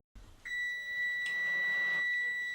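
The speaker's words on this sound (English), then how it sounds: "And that's the timer" A kitchen timer gives one long, steady electronic beep that holds for about two seconds, loud and close, with a faint clatter of kitchen noise around it and no talking.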